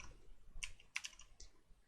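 A few quiet, scattered clicks of typing on a computer keyboard, light taps spaced irregularly with no talk.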